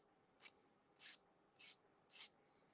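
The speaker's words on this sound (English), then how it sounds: "I'm just going to file that down." A flat file rasps across a metal rivet on a riveted jewelry link, four separate short strokes in an even rhythm, close and fairly quiet against a silent background.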